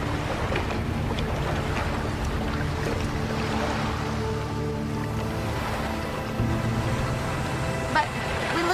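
A boat's outboard motor, just freed of netting tangled around the prop, drones steadily and loud over water and wind, holding a constant throbbing pitch throughout.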